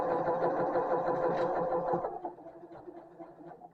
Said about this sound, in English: Makes a funny machine. It's the first stitch of the day.